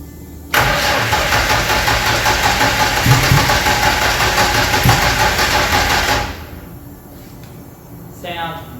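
A forged, turbocharged Nissan RB30 engine with low battery and retarded timing cranks briefly, then catches and roars loudly, running steadily for several seconds before dropping to a quieter idle.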